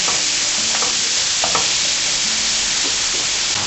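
Onions sweating and sizzling in a pan for a tartiflette, a steady loud frying hiss with a few soft scrapes of stirring, no talk.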